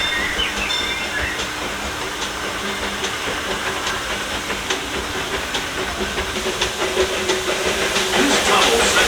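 A Disneyland Railroad steam train rolls on a rainy day with a constant loud hiss and rumble, faint clicking of wheels on rails running underneath throughout.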